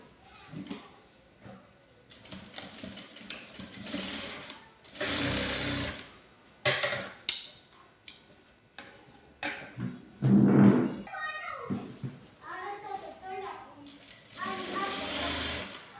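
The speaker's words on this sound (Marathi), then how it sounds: "पहा आता मी काही कशा पद्धतीने फिटिंगची टीप मारती आहे" A sewing machine runs in short bursts while stitching a fitting seam on a katori blouse, its rapid mechanical whirring starting and stopping between quieter pauses, with someone speaking in between.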